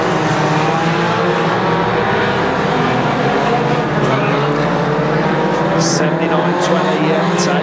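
Bangers racing at Kings Lynn, loud continuous engine roar and revving from the pack, with a commentator talking over the constant engine noise and a few sharp bright knocks near the end.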